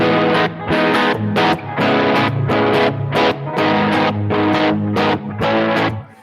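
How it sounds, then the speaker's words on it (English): Loud distorted electric guitar chords strummed in a steady, chugging rhythm with brief gaps between bursts; no voices. "I use that for anything I need distortion."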